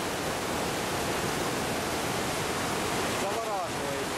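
Niagara Falls roaring as a continuous, dense wall of rushing water, loud and unbroken throughout, with a brief faint voice near the end.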